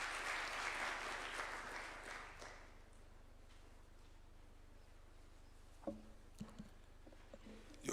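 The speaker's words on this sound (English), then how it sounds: "A clap for him, please." Audience applause at a presidential bill-signing ceremony at State House starts loud and full, then fades away within a few seconds, leaving a quiet room with a few faint knocks.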